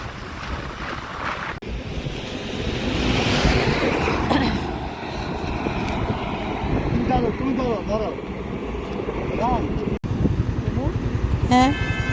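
Strong wind roaring across a microphone while riding a motorbike over the Padma Bridge in Bangladesh, a loud continuous rushing buffet with gusts, a voice talking faintly underneath.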